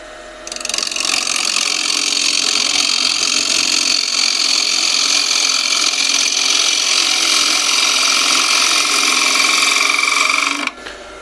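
A wood lathe spins a live edge oak bowl at 1350 RPM while a 12 millimeter ball gouge cuts steadily, giving a loud, continuous rough hiss that holds for about ten seconds and then stops abruptly.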